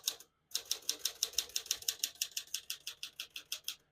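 Steady, rapid clacking of a 1954 Smith-Corona Silent-Super portable typewriter's keys striking one after another in an even rhythm, close up, after a short pause at the start.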